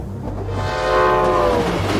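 A train in a video game rumbles steadily with rising horn-like tones, a sustained loud mechanical roar building and holding with no talk.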